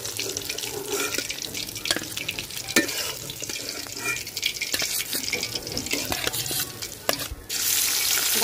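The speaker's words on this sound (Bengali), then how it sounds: "একদম বেশি করো না, হালকা কড়া ভাজছি" Koi fish frying lightly in a pan gives off a continuous crackling sizzle with sharp scattered pops and spits, close and fairly loud, swelling into a harsher hiss near the end.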